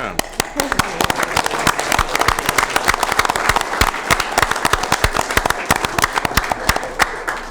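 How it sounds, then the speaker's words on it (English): An audience at a Sacramento County Board of Supervisors meeting claps in a lively burst of many sharp, overlapping hand claps, sustained and fairly close. "Now you can clap."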